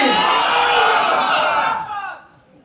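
A large crowd of married men at a waz mahfil, an Islamic sermon gathering, roars a takbir chant in unison, loud and close, before the shout fades out at the end.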